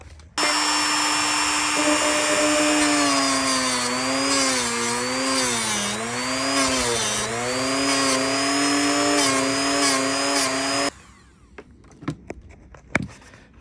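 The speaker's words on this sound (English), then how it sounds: "I used the Dremel, and I was able to get it down a lot smoother than the cut" A Dremel rotary tool grinding down a Fox shock part: a loud, close, high-pitched whine running steadily for about ten seconds with slight pitch wobbles as it bites, then cutting off to quiet handling clicks and taps.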